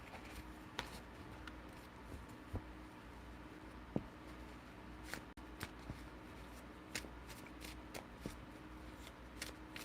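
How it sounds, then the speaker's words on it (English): Tarot cards shuffled by hand, soft intermittent riffles and light taps of card stock, quiet and close with scattered sharper clicks over a faint background hum. "Alright, so let's give these a shuffle."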